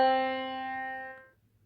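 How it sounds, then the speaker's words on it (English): One steady, bright pitched note from an ascending perfect fourth demonstration in a do-re-mi ear-training lesson rings for just over a second, then stops abruptly and leaves a faint hiss. "is going to sound like this"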